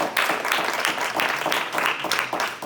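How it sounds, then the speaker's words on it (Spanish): A church congregation claps during a Spanish-language worship service, dense applause in rhythmic bursts that fills the room, loud and close, with no speech over it. "Dale su mejor ofrenda de palmas en esta hora."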